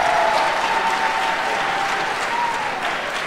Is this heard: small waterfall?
no